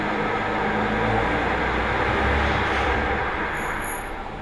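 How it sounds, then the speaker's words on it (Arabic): A car's worn front brake pads squeal briefly while braking: a thin, high-pitched whine rises near the end, over steady rumbling road and driving noise, with no talking. "اول ما ضرب فرامل شفت صفارة في الآخر"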